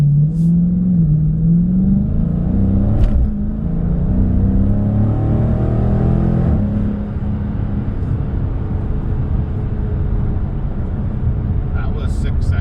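A 2020 Dodge Challenger Scat Pack launches hard from 0 to 60, its V8 engine rising in a loud climbing roar with a shift partway through, then a sustained heavy drone with brief tire slip.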